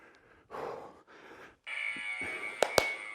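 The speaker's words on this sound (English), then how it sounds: "Keep going to that buzzer sound" A workout interval timer buzzer sounds a steady, loud, tonal drone during a home follow-along AMRAP session. Two sharp bangs land near its end, and breathy, muffled bursts of movement come before it.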